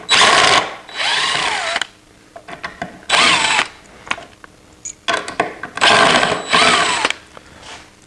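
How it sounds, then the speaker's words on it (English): A power drill whines loudly in several long bursts with short pauses between, backing big framing screws out of the top of a sawhorse. The spinning tone rises and falls up close, with small clatters in the gaps. "So what I'm doing here is taking out these big framing screws,"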